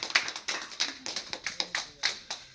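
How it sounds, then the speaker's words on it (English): Audience applause at a Kangen water demonstration, a small scattered group clapping in a loose irregular rhythm, each clap sharp and distinct, moderately quiet. "Give that a round of applause and I'll keep going."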